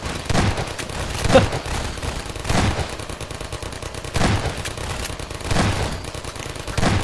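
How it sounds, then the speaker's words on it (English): Gunfire in Half-Life 2: Episode Two, fired down into a hole, comes as loud, close bursts of rapid shots with booming low-end reverberation, repeating several times in clusters with brief pauses between. "Just randomly shoot down the hole."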